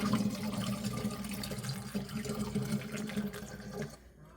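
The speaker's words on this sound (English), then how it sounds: "I'm just going to pour the elderberry syrup." Homemade elderberry syrup pours steadily through a funnel into a container, a continuous liquid gurgle and splash that runs for several seconds and then stops abruptly.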